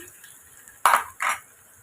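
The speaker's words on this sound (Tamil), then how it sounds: "கொஞ்சமாக வெங்காயம் மிளகா கருவேப்பிலை கலந்து விட்டுக்கலாம்" A spoon mixes onion, green chili and curry leaves into tempered mustard seeds and cumin in a pan. Two short, close metallic scrapes break an otherwise quiet moment.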